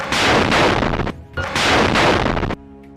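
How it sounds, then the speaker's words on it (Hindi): Two loud, close booms from a rocket fired at an IDF bulldozer in combat footage, each a broad blast that rings on for about a second, followed by a brief lower rumble, with no talking. "वो उसके सामने जा रहे आईडीएफ के बुलडोजर पर ये रॉकेट फायर कर देते हैं"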